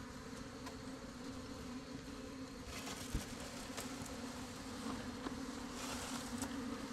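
African honeybee foragers buzz around a hive outdoors, a soft, steady droning swarm with occasional louder individual bees passing nearby.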